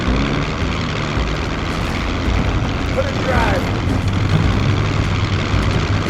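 A propeller airplane engine drones steadily throughout a movie scene, loud and close, while someone speaks briefly over it.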